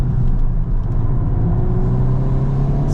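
Steady, loud engine drone of an Audi R8 driving on winding mountain roads, a continuous mid-range hum with a faint rising pitch and no talking.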